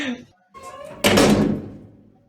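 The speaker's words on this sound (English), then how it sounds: "guy just shut the door on me" Someone speaks briefly, then a door is shut with a single loud, close thud that rings out and fades.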